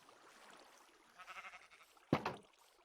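A sheep in a Minecraft modpack video game gives a short bleat, a quavering call that ends in a louder, sharper burst, close by and clear with no talking.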